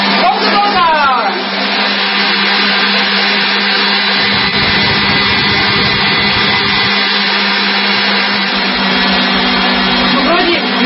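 An electric mixer whips butter for a chocolate cake batter with a loud, steady motor whine that holds the whole time, and a voice may be talking faintly underneath.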